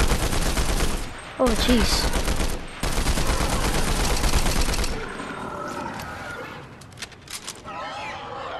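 Rapid bursts of assault rifle fire with heavy recoil in a video game, loud and dense for about five seconds, then sparser shots and a voice reacting.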